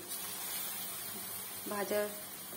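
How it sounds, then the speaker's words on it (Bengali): Small round pakoras fry in hot oil with a soft, steady hiss, and a voice speaks briefly near the end. "এবার আমি এটাকে ছোট ছোট পকোড়ার আকারে তেলে ফ্রাই করব।"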